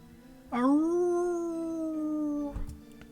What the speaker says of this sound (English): The howling doesn't stop.